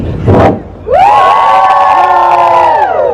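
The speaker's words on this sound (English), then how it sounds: "When I throw it at the air, you guys can all make some noise." Crowd at an outdoor Halloween event in London gardens, a short burst of noise followed by sustained loud cheering and whooping from many voices, close and continuous.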